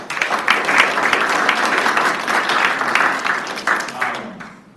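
A crowd at a university sales competition results event applauds, a full, sustained roar of many clapping hands with a few sharper claps standing out before it fades away at the end.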